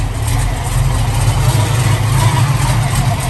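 A 1969 Chevrolet Camaro with a cam and electric choke idles steadily from the front, a continuous low rumble held at close range with no talk over it.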